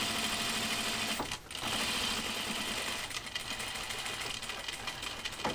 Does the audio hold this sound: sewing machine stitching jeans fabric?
yes